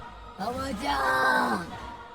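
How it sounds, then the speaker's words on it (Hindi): A man in a horror story yells loudly, a single drawn-out cry with a wavering pitch, sounding distressed and close. "तभी किसी के चिल्लाने की आवाज आई।"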